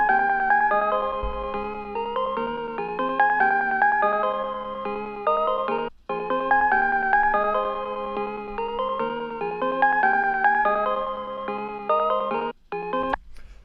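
Serum synth melody looping over eight bars in an FL Studio pluggnb-style beat: a bright, bell-like lead that steps steadily through its notes, with two brief dropouts along the way. No voices.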